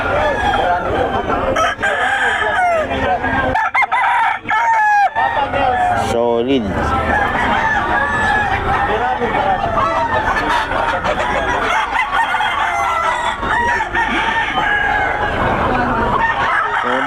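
Roosters brought by a breeder in Pampanga crow repeatedly, loud and close, with clucking fowl and a busy crowd of voices talking throughout.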